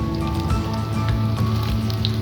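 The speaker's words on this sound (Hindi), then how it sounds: "यहाँ में ऐड करने लगे हैं प्याज जो कि हमारा घी जो है गर्म हो चुका था।" Onions dropped into hot ghee in a kadai give a steady, close, loud sizzle with crackling pops throughout, no voices.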